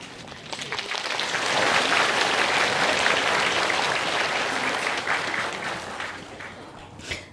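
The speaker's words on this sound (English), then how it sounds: "Thank you for being so polite and generous with your clapping." An audience at a gathering claps after a talk, a broad sustained wash of applause that swells, holds steadily for several seconds, then thins out toward the end, with some voices faintly underneath.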